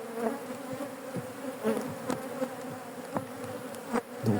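Swarm-prone honey bees lift off a hive frame in a dense, steady buzzing hum, with sharp individual wingbeat passes flicking close by every second or so.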